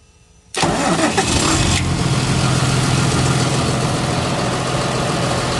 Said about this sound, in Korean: 아, 시동이 됐습니다